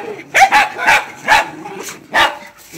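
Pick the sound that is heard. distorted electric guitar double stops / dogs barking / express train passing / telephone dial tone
dogs barking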